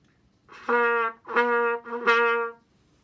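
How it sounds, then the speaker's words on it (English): Three sputtering trumpet notes, each starting with a breathy, spitty attack before a sustained tone, played close and alone. "ends up with a kind of a spitty sound like this"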